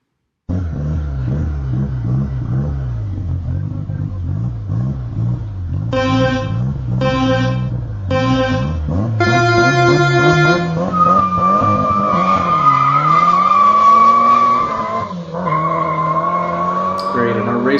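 A drag race car sound effect: a loud, close engine revs and drones, then its pitch climbs to a rising whine, with bursts of tire squeal and a horn-like blare.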